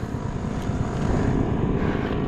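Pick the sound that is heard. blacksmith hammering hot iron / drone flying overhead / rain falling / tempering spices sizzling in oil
drone flying overhead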